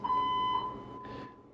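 A building fire alarm sounds a steady electronic beep tone, loud and continuous for about half a second then a second fainter burst, with no one talking.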